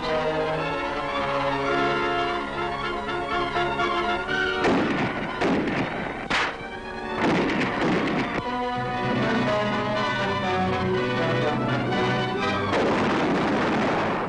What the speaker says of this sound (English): Big 155mm guns are hauled into position until they're well within range of the Japanese.